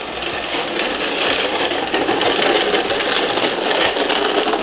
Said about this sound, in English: now we're wire brushing the cage